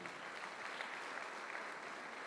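A church congregation applauds during a service, a steady wash of clapping from many hands that holds at an even level throughout.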